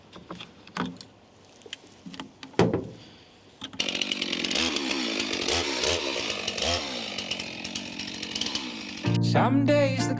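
A chainsaw felling trees on a mountain farm: a few scattered knocks and clatter, then the saw's engine whines steadily and close for several seconds and revs louder near the end.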